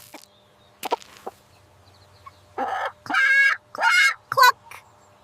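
A hen eating grains gives a handful of clucks, some short and some drawn out, close and clear against a quiet background.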